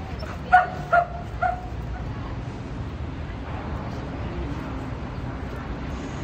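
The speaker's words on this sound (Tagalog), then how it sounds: "So many dogs." Dogs at a playdate give three quick, sharp barks close by near the start, then only faint background sound remains.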